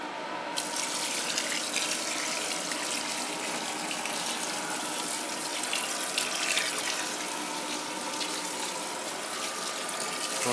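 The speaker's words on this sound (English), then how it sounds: "And now we will put some water." Water pours steadily onto freshly sown seeds in a geothermal greenhouse in extreme cold, a continuous gushing stream close by with no talk.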